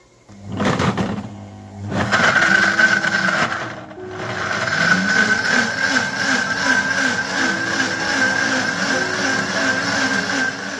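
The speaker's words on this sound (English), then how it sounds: "cover the blender and set it to blend on high speed until you have a very pureed texture" A blender runs on high speed pureeing coconut with room-temperature water, a loud whirring motor hum with a steady pitched whine, starting with brief bursts before settling into continuous churning.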